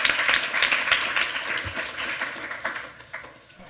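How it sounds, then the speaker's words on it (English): A conference audience applauds its panelists with a burst of clapping, strongest at first and gradually thinning out, heard across the room. "I'd like everyone to give a round of applause to our panelists"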